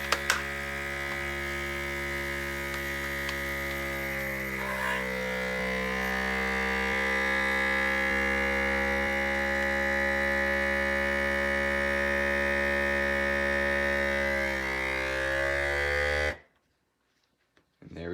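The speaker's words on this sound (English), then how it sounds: "put it into the little vacuum chamber here. I'm gonna close this. And then choose vacuum and seal" A chamber vacuum sealer's electric motor hums steadily as it pumps out air for about sixteen seconds, then cuts off abruptly into near silence.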